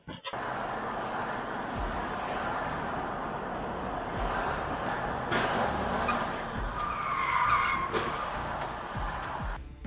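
Toyota Camry skidding up onto a sidewalk after a lane change, tires scraping and squealing amid street noise, with a few sharp bursts and a harsher screech near the middle.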